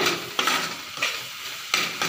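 Egg and potato bhujia being stirred in a frying pan, a steady sizzle broken by several sharp spatula scrapes and clatters at irregular intervals, close and fairly loud.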